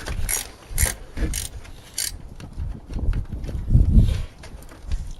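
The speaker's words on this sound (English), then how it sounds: "so right now it's a 15 millimeter wrench. Installing this." A 15 mm ratchet wrench tightens alternator bolts on a 2002 GMC Yukon XL. The pawl gives a rhythmic series of clicks up close, with some metallic clatter.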